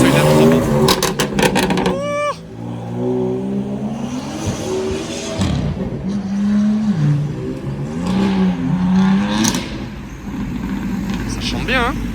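Sports car engines revving and accelerating along a Paris street, an older Porsche 997 among them, loud passing engine tones over street noise while people talk nearby.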